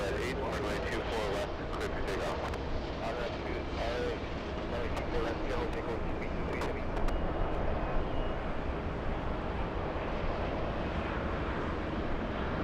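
A KLM airliner approaching the airport, its broad engine roar steady and fairly loud throughout, with people talking over it.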